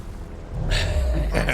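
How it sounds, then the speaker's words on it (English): A mega explosion in the space strategy game Ixion, a deep low rumbling boom that swells and sustains, with bright crackling bursts layered on top, loud and continuous. "Nice mega explosion"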